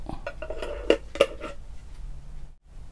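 Metal tablespoon scooping Ovaltine powder and tapping against a glass, several light clinks with two sharper knocks in the first second and a half, then a quiet lull, no voices.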